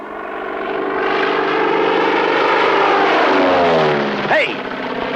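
A propeller airplane from 1941 flies past, a loud sustained droning engine roar that swells and then falls in pitch as it passes, with a short voice near the end.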